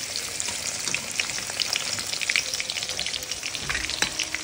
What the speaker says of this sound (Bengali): পেঁয়াজটা একটু ভালো করে ফ্রাই করে নিতে হবে। পেঁয়াজটা ফ্রাই করে নিই।